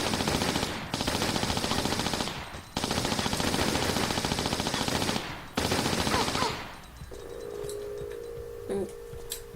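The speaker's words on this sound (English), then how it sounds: "Get my Uzis and let rip." Twin Uzis in a Tomb Raider custom jungle-ruins level unleash three long, loud bursts of rapid automatic fire separated by brief pauses, then give way to a quiet steady electronic tone.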